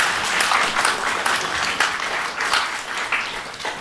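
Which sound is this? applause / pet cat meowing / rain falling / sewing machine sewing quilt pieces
applause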